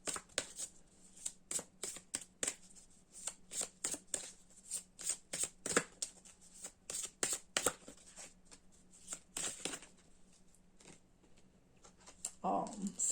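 Angel love oracle cards are shuffled in a long run of quick, crisp riffling flicks, steady and close, with a low hum underneath and brief speech at the very end.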